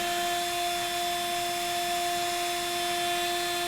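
CNC router spindle spinning at 10,000 RPM while cutting wood for a wine caddy, a steady high whine with sharp tonal lines over constant broadband noise, loud and unbroken throughout.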